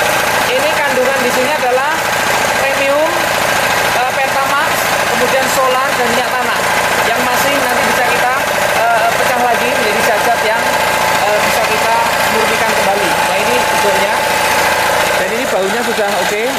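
A small engine running on fuel made from plastic waste idles loudly and steadily throughout, with a constant rough drone and people talking over it.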